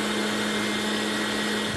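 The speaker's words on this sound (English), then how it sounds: "And now we're going to put it in the blender and puree it." A countertop blender purees cooked shallots and garlic into a sweet pepper sauce, a loud, steady motor whir with a constant tone, close up and uninterrupted, with no voices.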